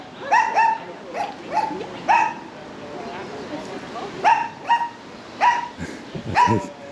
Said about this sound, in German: hat wieder einen Freund gefunden, der bellt.